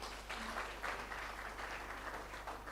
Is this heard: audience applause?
yes